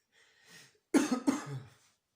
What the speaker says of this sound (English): Again, not the Rona, guys, just a cough.